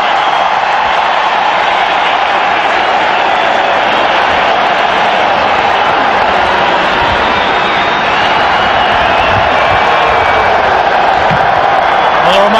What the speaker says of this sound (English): Remarkable crowd on hand.